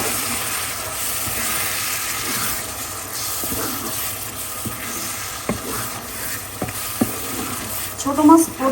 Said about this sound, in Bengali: আমি প্রথম চান্সেই যা নাড়লাম এই, আর আমি নাড়তে পারবো না কারণ ভেঙে যাবে